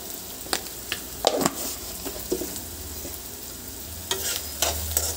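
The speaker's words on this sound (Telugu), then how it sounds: "ఆనియన్ కాసేపు ఉడికినంత సేపు మనము ఇలానే ఉంచుకొని దాని మీద క్యాప్ పెట్టుకోవాలి" Chopped onions with a little salt sizzle in hot oil in a pan on the stove, a steady close frying hiss broken by clinks and scrapes of a spoon stirring, with no talking.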